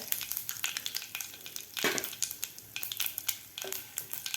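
Curry leaves and a pinch of asafoetida fry in hot oil, giving a steady close sizzle broken by louder bursts of crackling and a few stirring scrapes, with no talk.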